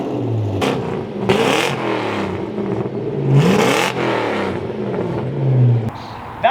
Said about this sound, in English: That's a proper sounding Ford.